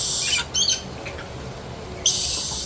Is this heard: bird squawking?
yes